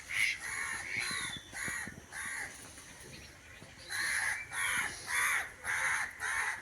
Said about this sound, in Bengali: কাক ডাকছে